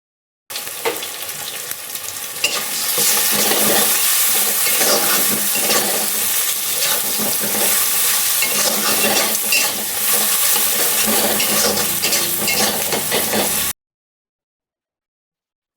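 Chopped green chilli goes into a hot pan while pasta is being made at home, setting off a loud, steady sizzle and frying hiss that runs without a break for about thirteen seconds, with stirring scrapes mixed in and no talking.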